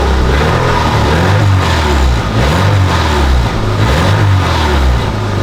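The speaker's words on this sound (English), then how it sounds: "So let's give it a rev and see how it sounds." A cheap rally car engine revs hard with a slightly leaking exhaust, its loud, steady drone rising and falling in a few pulses close by, with no voices.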